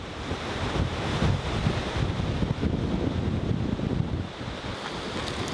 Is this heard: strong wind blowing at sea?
yes